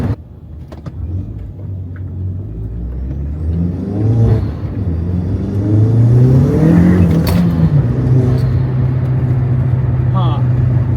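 A Mk1 Audi TT 225 8N accelerates hard in second gear, its engine rising loudly toward the top of the rev range before settling into a steady, rumbling drone, with a voice speaking over it.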